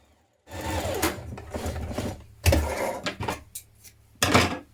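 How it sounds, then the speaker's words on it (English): A sewing machine stitches along a blouse tie and back tacks, running in several close bursts of whirring motor and needle clatter separated by short pauses, with no talk. "So we're going to stitch to there and back tack"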